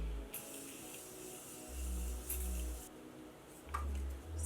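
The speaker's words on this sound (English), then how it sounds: "Let's spray her because that's what I normally do." Makeup setting spray misted onto a face, a soft, quiet hiss of spraying lasting a couple of seconds in a calm indoor setting.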